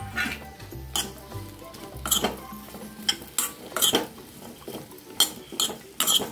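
Sweet potato slices go into a kadhai with a little ghee, a run of close clattering knocks and metallic clinks from the pan and utensil, irregular and without speech.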